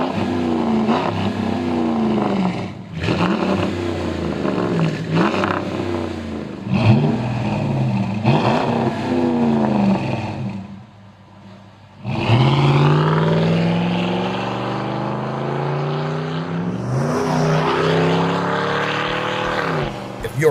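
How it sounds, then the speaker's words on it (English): A 2006-2008 Dodge Ram 1500 with a Flowmaster Outlaw Series performance exhaust revs in repeated loud bursts, its deep throaty drone rising and falling several times before a longer climbing rev near the end. "will provide a deep performance tone on both the interior and exterior of the truck"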